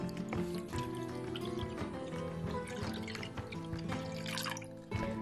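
Water is poured into a pot to make syrup for a chocolate semolina halva. It gives a continuous trickling, splashing pour under steady background music.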